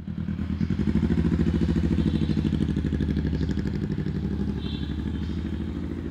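A custom Honda Rebel 500 motorcycle engine idles nearby with a steady, throbbing chug, its rhythmic pulses holding even throughout.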